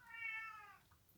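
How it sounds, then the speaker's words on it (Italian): A kitten's meow rises and falls once, clear and fairly close, in an otherwise quiet indoor room with a faint background hum. "Sentite un miagolio per caso?"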